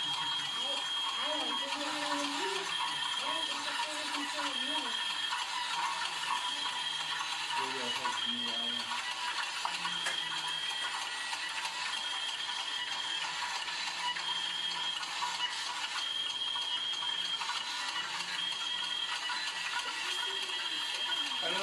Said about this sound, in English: I think you just hooked all those drives up to make a noise.